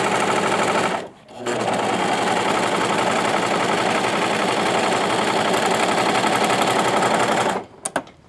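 A sewing machine hems around a pant leg, running loud and close in a fast, steady whir. It stops briefly near the start, then runs for several seconds and halts with a few clicks.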